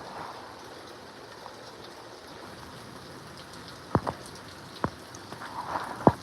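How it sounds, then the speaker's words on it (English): Rain falls outdoors during a storm, a soft steady patter and trickle with several sharp close drops or taps standing out near the end, no voices. "Ooh, that raindrops are cold."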